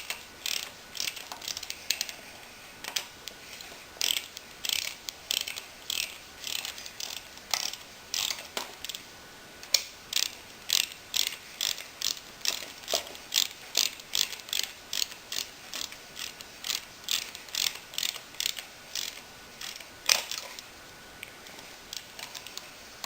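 A ratchet wrench clicks in quick repeated bursts of sharp metallic ticks while a Yamaha V-Max engine is assembled, with short pauses between strokes and no talking.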